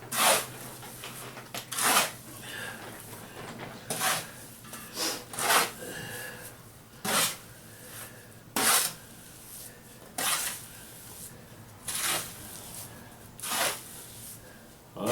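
A bricklaying trowel works mortar in an under-and-over motion, giving a series of sharp scraping swipes about every second or two, close and moderately loud with quiet gaps between strokes.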